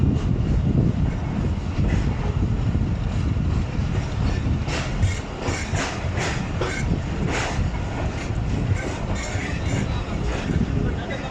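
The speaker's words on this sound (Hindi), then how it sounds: "वालबर्टन के बाद से अब तक ट्रेन तकरीबन 30 से 40 किलोमीटर फ़ी घंटा के रफ्तार से चल रही है" The 122 DN Ravi Express passenger train rolls along the rails at around 30 to 40 km/h on the Lahore to Shorkot line, with a loud continuous rumble, rattling carriages and repeated clickety-clack over rail joints.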